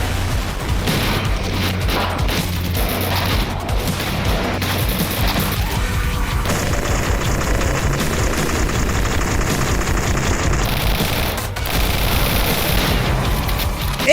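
Dense, relentless shotgun blasts during a boss fight in Return to Castle Wolfenstein, heavy booming shots layered with other gunfire and explosions, loud and continuous with no gaps and no talking.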